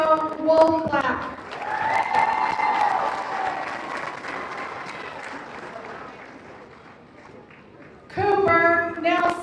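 A graduation audience breaks into sustained clapping and light cheering that slowly fades, framed by a voice speaking into a microphone at the start and again near the end.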